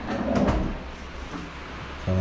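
A marine laminated board cabinet drawer slides open in a house under construction, a short soft scraping rumble followed by a brief louder knock at the end, with no speech.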